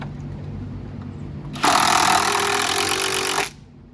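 Power drill driving a screw into the wood of a Christmas tree corral, one steady whirring burst of about two seconds, loud and close over a quiet background hum.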